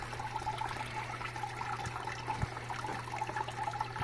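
Gold panning indoors in a living room: water sloshes and trickles continuously in a pan, with soft splashes and a faint low hum in the background.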